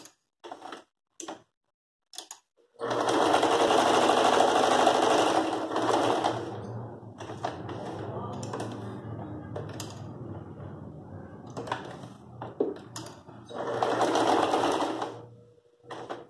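A sewing machine stitches a border onto a cotton dish towel, running in long steady bursts with brief pauses between, close and alone with no talking.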